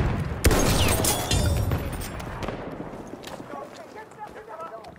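A grenade explodes in a video game battle amid bursts of gunfire. Heavy booming blasts and crackling shots come up front, then fade into scattered distant fire while game voice callouts sound over it.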